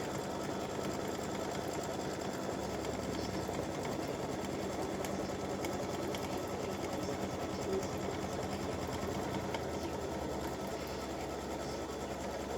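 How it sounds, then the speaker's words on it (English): An embroidery machine stitches the decorative fill on a Valentine roses mug rug, a steady, fast mechanical whirr and needle patter running unbroken and close at moderate loudness, with no voices. "color stop number 4 is going to stitch the decorative fill"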